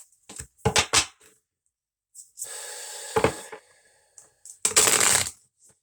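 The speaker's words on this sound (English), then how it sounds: "So I'll give it a good shuffle." Animal medicine oracle cards being shuffled by hand in several separate bursts of riffling and slapping, close and fairly quiet, with short pauses between bursts and no talking.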